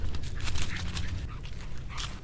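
A dog pants close by outdoors while walking through a cemetery, with steady breathy rhythm and faint whimpers, no talking.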